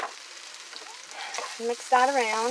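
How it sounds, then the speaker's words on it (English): Refried beans sizzle and fry in a pan with stirring scrapes, a steady crackling bed heard under a person speaking briefly. "You'll know that the beans are pretty much done frying when there's like no liquid left in the pan"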